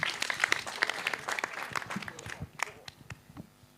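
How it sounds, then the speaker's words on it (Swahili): An audience at a burial service in Kenya claps, a burst of scattered applause that thins out and fades, with a voice heard briefly over it. "Tumpigie makofi."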